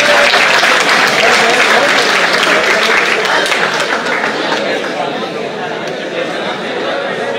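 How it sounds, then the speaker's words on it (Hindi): An audience at a mushaira, an Urdu poetry gathering, applauds a poet with loud, dense sustained clapping that fills the whole stretch and eases slightly near the end, with faint crowd murmur beneath. "आपकी भरपूर तालियों में"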